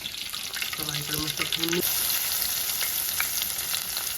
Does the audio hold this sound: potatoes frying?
yes